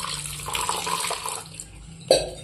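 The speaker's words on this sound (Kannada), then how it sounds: "ಇನ್ನೊಂದು ಸ್ವಲ್ಪ ಇದನ್ನು ನೀರು ಹಾಕಿ" Water is poured over homemade paneer made from milk powder as it is washed: a steady running splash that eases off, then one sharp, close splash near the end.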